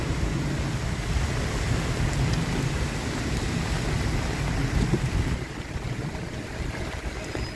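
Steady, heavy rain falls continuously with a dense, even hiss that eases slightly toward the end; no voices are heard.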